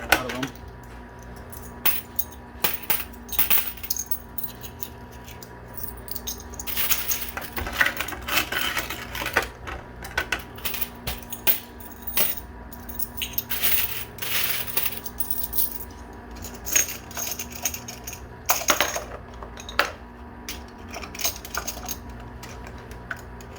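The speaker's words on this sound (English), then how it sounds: "you kind of got to shuffle through every piece of silver to get your quarters out of them" Quarters and silver coins shuffled in a coin pusher, with repeated metallic clinks and clattering bursts recurring irregularly over a steady background hum.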